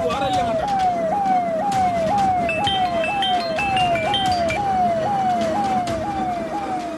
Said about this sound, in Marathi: धोक्याचं सायरन वाजवत ही पोलीस व्हॅन कसला तरी पिछा करते